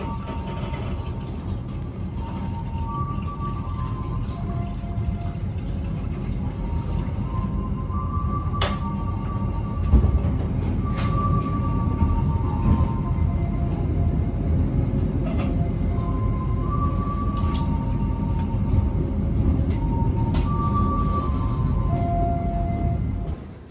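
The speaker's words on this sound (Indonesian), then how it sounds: "Kereta api Harina yang akan saya naiki sebentar lagi akan berangkat." Continuous low rumble of the KA Harina passenger train in motion between Bandung and Semarang, with steady rolling noise and faint rhythmic clicks from the tracks throughout.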